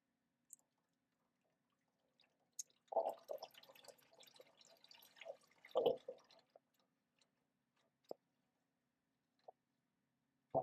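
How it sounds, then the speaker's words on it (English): Transmission fluid draining from the drain plug of an old Ford onto a cross member, heard as faint, sparse drips and splatters, with a brief cluster of liquid patter near the middle before scattered single drops. "Of course, it drains onto the cross member."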